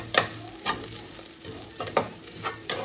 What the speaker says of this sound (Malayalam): നല്ലോണം ഇളക്കി കൊടുക്കാം ആ ചില്ലി ഫ്ലിക്സിന്.